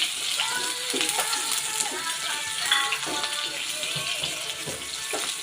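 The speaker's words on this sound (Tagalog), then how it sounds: "Gisahin muna ang sibuyas at" Onion and garlic sizzle steadily in a pan as adobong kangkong is started, a continuous hissing crackle at moderate level running the whole time, with a voice speaking over it.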